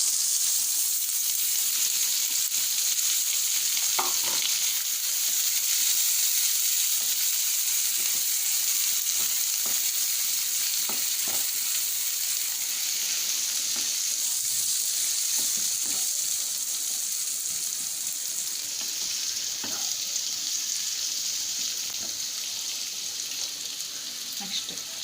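Onions frying in hot oil for a chicken fry, a loud, continuous sizzling hiss with scattered clicks and scrapes of stirring throughout, no voices.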